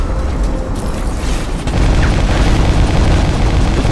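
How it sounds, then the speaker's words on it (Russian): A grenade blast in the shooter Crysis 3 booms loudly with a low, rumbling burst, followed by sustained heavy low-end noise and mechanical clatter, with no talk over it. "Нет, граната — это плохо."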